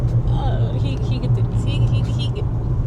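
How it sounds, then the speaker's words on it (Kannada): A car drives along a road on a family trip to Hyderabad, heard from inside as a low steady engine and road rumble beneath conversation. "ವಿನಯ್ ಫುಲ್ ಡಿಫೆನ್ಸಿವ್ ಡ್ರೈವಿಂಗ್ ಮಾಡ್ತಾ ಇದ್ದಾರೆ"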